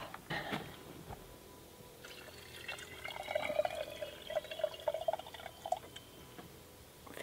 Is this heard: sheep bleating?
no